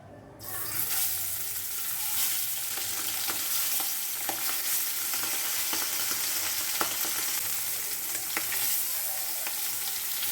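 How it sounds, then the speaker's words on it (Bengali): Bhola fish frying in a frying pan, a bright, steady sizzle that jumps in at the start and continues close and even, dotted with sharp pops and spatter crackles throughout. "ভাজা শুরু ভোলা মাছ।"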